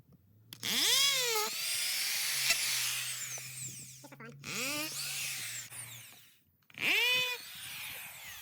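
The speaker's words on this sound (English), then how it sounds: "So we'll run the drill back down there." A power drill driving a spray foam straw down into a concrete slab, whining in several long revving bursts that rise and fall in pitch, loud and close, with brief pauses between runs.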